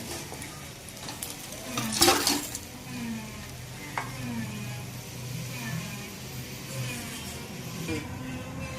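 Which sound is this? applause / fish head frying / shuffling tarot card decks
fish head frying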